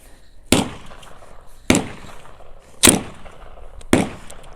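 A cracked 35-round Magpul Scorpion PMag dropped onto cement four times at about one-second intervals, each a sharp, loud, close hard-plastic smack with a short rattle after.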